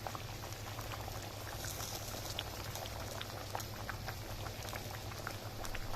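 Water boiling with rice in a pot for Egyptian chicken fatteh, a soft, steady bubbling and popping with a low, continuous rumble underneath, no talking.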